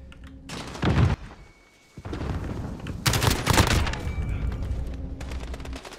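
Kilo 141 assault rifle fire in a first-person shooter video game, several loud bursts of rapid automatic shots broken by short pauses, with game effects in the background.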